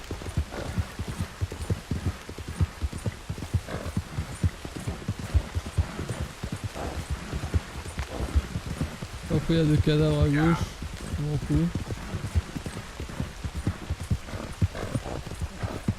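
Horse hooves clip-clop steadily through the open world of Red Dead Redemption 2 while someone talks over them almost throughout, with a short horse-like vocal burst near the middle.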